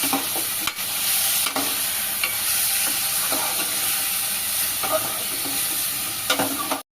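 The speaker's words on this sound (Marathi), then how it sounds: "तर मिक्स करून घेऊया आपण तेलामध्ये।" Chicken sizzles loudly and continuously in hot oil, with occasional scraping strokes of a utensil stirring the pan, close up and without speech.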